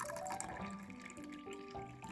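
Roughly 100 millilitres of cold water poured into a container, a steady close trickle and splash with the rising tone of a vessel filling, no talking.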